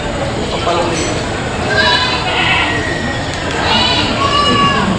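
Goats bleat repeatedly at a livestock market, a few cries rising over a busy crowd murmur, moderately close with people chattering throughout.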